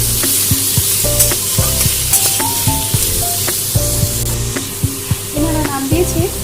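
Medium-sized prawns frying in a pan sizzle loudly and continuously up close, with repeated scraping and clattering stirs of a utensil over the hiss; no one speaks.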